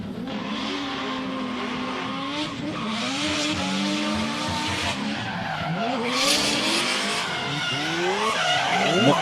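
LS-engined drift car battling in a Top 16 drift competition at Meremere, tyres skidding and squealing loudly and continuously over roaring engine revs.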